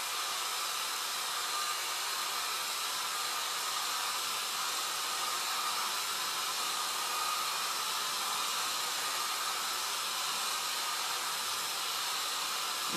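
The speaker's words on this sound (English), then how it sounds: "I'm using the cool setting on the blow dryer" A blow dryer on its cool setting runs steadily, drying chalk paste on a board; a loud, continuous broadband whoosh with no talk.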